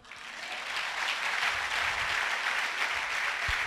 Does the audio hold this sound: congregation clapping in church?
yes